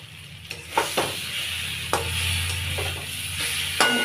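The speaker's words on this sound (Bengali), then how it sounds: "মশলার সঙ্গে পটলগুলো অল্প নেড়ে চেড়ে নেব এখন একটু ভাজা মশলা ধনে জিরে আর গরম মশলাগুলো দিয়ে দেবো দিয়ে আর একটু কষিয়ে নেব" Pointed gourd sizzling and frying in a pan with ground spices, coriander, cumin and garam masala, with a few scraping stirs of a spatula over steady low sizzle, close and moderately loud.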